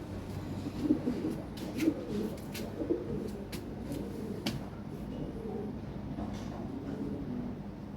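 Low, soft cooing of fancy pigeons repeats steadily against a murky background hum, with a few faint clicks scattered through.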